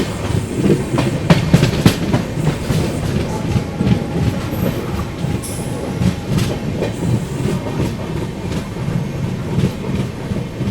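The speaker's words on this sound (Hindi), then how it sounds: "फिलहाल यहाँ से भी कोई ट्रेन क्रॉस हो रही है" A train passes on a railway line near Balamau Junction, heard from aboard the Kashi Vishwanath Express, a loud close rumble with rhythmic clickety-clack of wheels and a brief high squeal.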